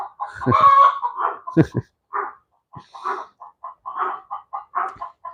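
A hen laying an egg cackles loudly and nearby, one long squawk followed by a steady train of short clucks, with a person talking over part of it.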